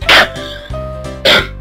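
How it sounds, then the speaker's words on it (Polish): A cartoon character in the Sammy Suricate video game coughs in two short, loud bursts, one near the start and one near the end, with steady game music underneath. "Ten ciągle kaszel."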